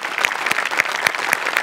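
Loud studio audience applause on a Marathi comedy show after a singing performance, dense rapid clapping that stays strong and close for the whole moment.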